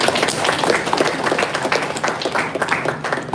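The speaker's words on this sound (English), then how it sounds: "I want all the community members to clap for yourselves" Community members applaud together in a steady burst of clapping that lasts a few seconds, loud and close, with a faint murmur of voices underneath.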